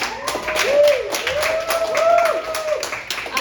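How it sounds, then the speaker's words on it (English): An audience at a comedy show at the Oasis venue claps for the venue, scattered hand claps mixed with rising and falling whoops and cheers from the crowd. "Can we do like a big round of applause for the Oasis for having us here?"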